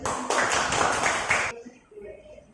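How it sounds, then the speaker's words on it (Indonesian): Students in a classroom group counseling session clap their hands together in a short, loud burst lasting just over a second, then it stops abruptly and quiet murmuring follows. "kalau begitu tepuk tangan dulu."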